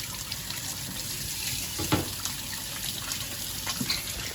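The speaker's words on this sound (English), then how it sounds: "Now what I'm gonna do is I'm gonna wash my hands" Tap water runs steadily into a kitchen sink as hands are washed before baking chocolate chip cookies, a continuous close gush with a few small splashes and clinks.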